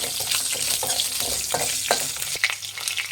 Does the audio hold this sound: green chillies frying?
yes